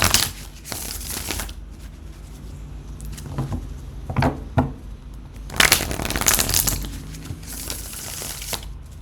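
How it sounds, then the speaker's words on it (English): A deck of cards being shuffled for a reading, with several bursts of riffling and crisp flicking separated by quieter pauses, close and fairly soft. "Just need to shuffle maybe 2-3 more times"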